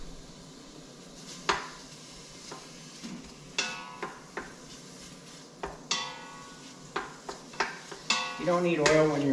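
Raw bacon sizzling in a warmed-up Instant Pot pressure cooker, a soft sizzle under repeated clinks and scrapes of a utensil against the metal pot, with sharper knocks growing busier toward the end.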